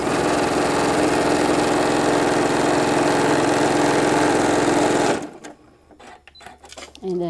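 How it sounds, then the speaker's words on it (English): Sewing machine stitching fabric for a shoulder bag, a loud, fast, steady mechanical whir for about five seconds before stopping abruptly, followed by quiet handling sounds. "And then sewing the two sets together."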